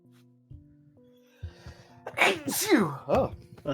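A single loud sneeze bursts out close by amid quiet background game music, followed by people talking.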